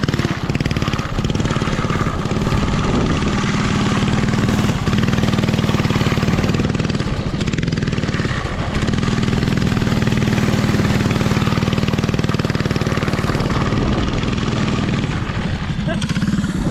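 A mini quad's small engine revs loudly and steadily close by, a raspy buzzing drone that dips briefly a couple of times before climbing again.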